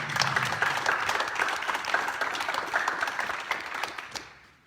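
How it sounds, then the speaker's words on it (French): Applause from the audience at a municipal council meeting, steady crowd clapping that holds for several seconds before tapering off and stopping. "On peut les applaudir."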